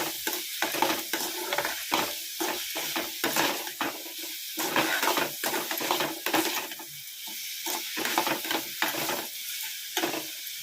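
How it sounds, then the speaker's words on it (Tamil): Onions or spices are sautéed with rock salt in a pan for a Tamil fenugreek kuzhambu. A spoon scrapes and stirs in repeated strokes over a steady sizzle, close up and with no voices. "கொஞ்சமாக கல் உப்பு போட்டு வதக்கிக்கலாம்."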